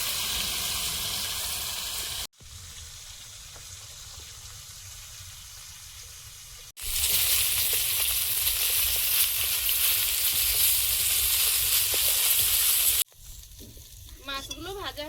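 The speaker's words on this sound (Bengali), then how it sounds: "মাছগুলো ভাজা হয়েছে, তুলে নিচ্ছি" Pieces of large American rohu fish fry in hot oil, giving a loud, steady, close sizzle that runs in several abruptly cut stretches, with no talk over it.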